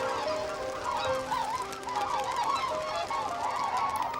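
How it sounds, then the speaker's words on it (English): A flock of red-billed whistling ducks calls over a swamp at dawn, with continuous overlapping honking and whistling cries at moderate distance and no voices. "The capybaras scare great flocks of red-billed whistling ducks whose wing beats sound out over the swamps every day at dawn."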